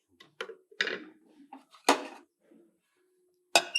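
Herbal decoction is strained and a lid set on the pot, heard as a handful of sharp, close metallic clanks and clatters spaced by short pauses.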